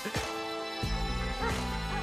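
A dog barks in Grand Theft Auto V, a few bursts over a busy game soundtrack with steady background noise.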